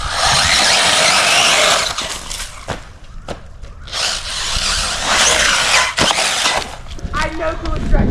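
A 70 mph RC car drives and drifts outdoors as a loud, broadband motor whine and tire scrub, surging and easing over several seconds with a few sharp clatters, while people talk and shout around it.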